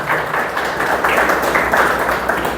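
A church congregation claps together, a dense and steady patter of many hands that stays loud and even the whole way through, with no voices on top.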